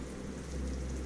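Steady, soft rainfall makes a continuous hiss with a low rumble underneath, even and unbroken throughout with no voices.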